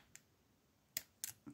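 A padlock being bypassed with a bypass knife gives a few sharp, quiet metallic clicks, with one faint tick followed by two louder snaps in close succession, heard up close against a still background.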